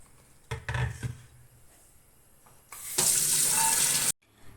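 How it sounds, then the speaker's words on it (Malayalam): A short splash of about two cups of water pours steadily into a pan for about a second, loud and close, after a few faint knocks and clatters. "ഏകദേശം 2 കപ്പിനടുത്ത് വെള്ളം ഇതിലേക്ക് ഒഴിച്ച് കൊടുത്തിട്ടുണ്ട് കേട്ടോ"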